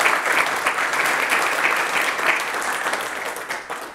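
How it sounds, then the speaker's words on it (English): Audience applause at a panel event, a dense and loud wash of clapping that holds steady for several seconds and fades slightly at the end, with no talking over it. "Let's give them a round of applause"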